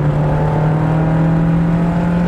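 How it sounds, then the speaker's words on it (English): A 1984 Toyota AE86 Sprinter's 4AGE engine with quad throttle bodies holds a steady, loud rev, a constant strong drone for a couple of seconds with no voices. "Connecting your mind and body to that 4AGE quad throttle body. Sounds incredible."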